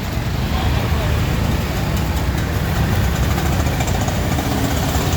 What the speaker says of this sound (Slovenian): Ogromno prometa.